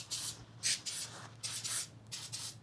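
Cooking spray is wiped around the inside of a small ramekin, soft rubbing strokes in short bursts of hissy friction, close and quiet with no talk.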